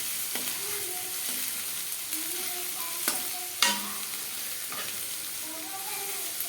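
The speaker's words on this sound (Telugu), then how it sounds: "కాస్త కరివేపాకు వేయించండి." Curry leaves frying in oil in a pan with a soft continuous sizzle, broken by several sharp scraping stirs of a spatula at irregular intervals.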